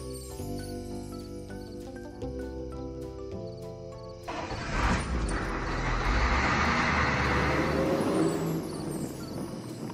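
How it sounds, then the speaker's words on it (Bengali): A cartoon vehicle pulls away: music plays first, then a rushing, rumbling engine-and-road noise swells in and holds steadily as it drives off. "ড্রাইভার গাড়ি ছাড়ো"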